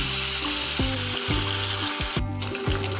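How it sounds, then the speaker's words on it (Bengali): Pieces of catla fish frying in hot oil, a continuous close sizzle with a few sharp pops and crackles across three seconds, no voices. "একইভাবে কাতলা মাছের বাকি পিস দুটোকেও ভাজা করে নেব।"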